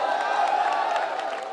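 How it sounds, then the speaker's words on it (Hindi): At a live comedy show in Delhi, an audience applauds and cheers steadily, with dense clapping and scattered whoops that hold for the whole moment before cutting off. "जोरदार तालियां।"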